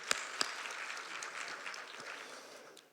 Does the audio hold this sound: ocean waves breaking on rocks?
no